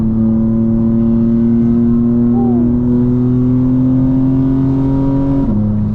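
A 2025 BMW M4 Competition xDrive with a custom transmission tune pulls steadily in 5th gear, its engine drone loud and continuous from inside the cabin, rising slightly before a brief dip near the end.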